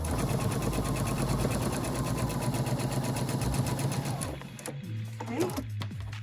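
A sewing machine stitching quilt pieces runs in a steady, rapid mechanical chatter for about four seconds, then stops, leaving faint handling sounds.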